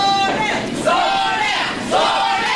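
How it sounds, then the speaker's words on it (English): Wrestling crowd at an AWN Christmas Chaos 2010 independent pro wrestling match, cheering loudly and continuously, with rising chanted swells and shouts throughout. "Hear the crowd getting behind Vordell Walker"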